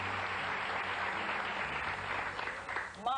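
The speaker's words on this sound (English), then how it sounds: "We were going to a break, and so we gave just some applause" TV talk show studio audience from 1991 applauding, a sustained full round of clapping that holds steady and fades slightly near the end, where a voice begins to break through.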